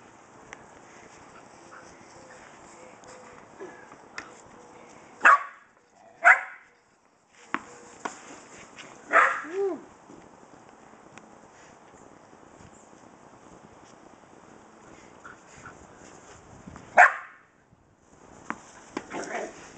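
A Shetland sheepdog gives a few scattered sharp barks and yelps, spaced out over quiet background, fairly close.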